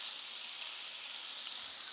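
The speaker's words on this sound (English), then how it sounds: "and stir fry." Mushrooms, white button and shiitake, stir frying in a hot pan, giving a steady, even sizzle that stays level from start to finish with no voices.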